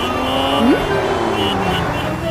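A car engine hums steadily from inside the moving vehicle, with a short rising whine partway through and a constant close drone throughout.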